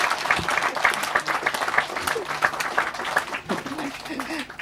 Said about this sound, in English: Clap hand again.